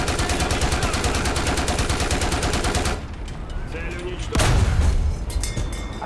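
Tank fire in a video game with Russian ground vehicles: a fast, even stream of loud, close shots for several seconds, then a quieter lull before a single heavy boom, with a voice briefly over it.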